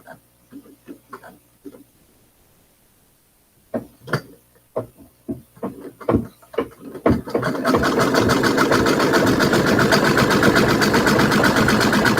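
Sewing machine stitching fabric, starting after a series of clicks and taps and then running in a fast, steady, loud mechanical rattle for the last several seconds.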